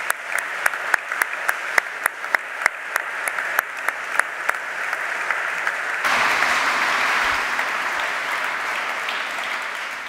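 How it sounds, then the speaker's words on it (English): Audience at the Körber Prize 2022 awards ceremony in Hamburg City Hall, starting with a few sharp separate claps that swell into full, sustained applause from a large hall crowd. "Please give our two speakers a round of applause while that happens."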